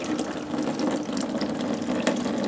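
Water pouring from a car, a steady close rush and splash of liquid that keeps going with little change, with no voices.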